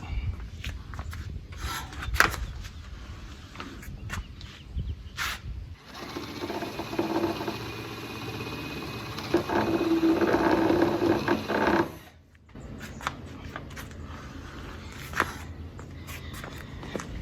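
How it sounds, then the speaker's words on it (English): A drill bores a hole into a fiberglass boat hull from the inside, a steady grinding whir lasting about six seconds, framed by quieter handling and rubbing noises. "So I'm going to quickly do a hole on the inside just so I don't break through the fiberglass and splinter it out."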